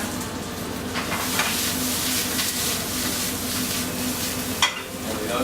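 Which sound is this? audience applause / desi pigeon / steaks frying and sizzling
steaks frying and sizzling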